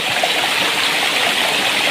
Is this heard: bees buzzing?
no